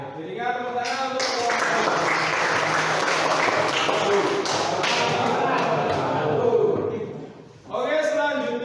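An audience claps after a group presentation in a vocational automotive teacher-training class, a sustained burst of applause lasting several seconds, with voices talking just before and after it.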